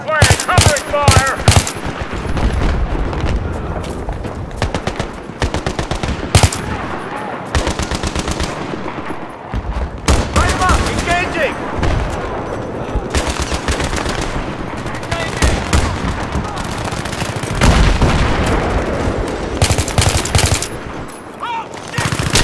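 Automatic and single gunfire in the video game Battlefield 3, loud sustained bursts and volleys of shots throughout, with brief shouted voices mixed in among the firefight.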